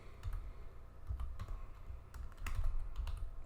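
Code being typed on a computer keyboard during an HTML and CSS lesson, a quick irregular series of close, crisp key clicks with brief pauses between bursts, no talking.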